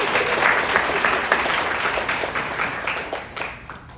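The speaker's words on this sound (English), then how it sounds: "Can we have a round of applause for y'all?" Audience applause at a family medicine residency graduation ceremony, a steady wash of many hands clapping that fills the room, then gradually thins and fades toward the end.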